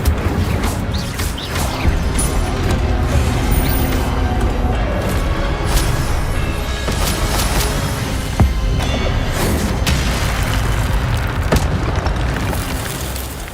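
Incendio fire spell in Hogwarts Legacy bursting in a loud, dense roaring blast that stays sustained and rumbling throughout, with booming crashes layered over the continuous fiery noise.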